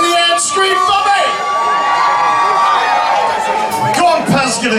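A festival crowd at a 1980s-themed band set cheers, whoops and screams loudly and continuously, with high shrieks and shouts rising above a dense roar of voices.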